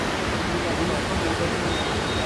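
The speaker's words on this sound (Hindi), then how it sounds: "पानी बहुत ज़्यादा तेज़ी से बह रहा है यहाँ से" Usri Falls waterfall in Jharkhand roaring as fast-flowing water rushes down, a dense, steady broadband wash close by and loud, with a voice faintly under it.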